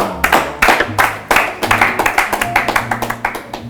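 An audience at an Indonesian talk show claps in uneven, scattered bursts of sharp hand claps, close and fairly loud, thinning toward the end.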